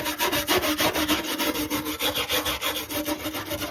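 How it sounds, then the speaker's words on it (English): The rotted bulkhead of a 1985 Land Rover Defender 90 being cleaned up by hand: fast, steady back-and-forth scraping strokes, close and even, with no talking. "Cleaning up the bulkhead of a Land Rover 90."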